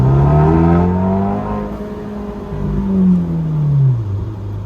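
A used sports car with its mufflers removed revs hard, the loud raw engine note climbing and falling in two sweeping pulls, close and alone.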